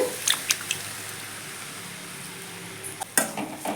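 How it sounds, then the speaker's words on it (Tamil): Vallakeerai greens frying in a pan over a high flame, with soft sizzling and a few sharp scraping stirs of a spatula near the start and again near the end. "இப்போ நான் அடுப்பை ஹையில் வச்சு தான் கிண்டிகிட்ருக்கேன்"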